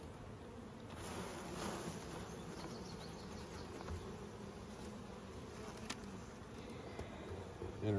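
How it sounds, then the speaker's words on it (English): Honeybees buzz steadily in an open hive box, a dense, continuous hum close by with a few faint clicks and handling noises. "box of bees."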